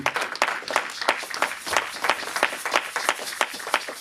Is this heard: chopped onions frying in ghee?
no